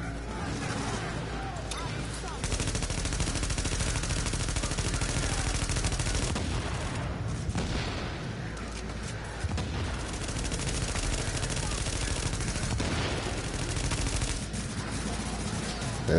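Video game gunfire rattles through in rapid, loud bursts and sustained volleys, with short pauses between them and a busy background.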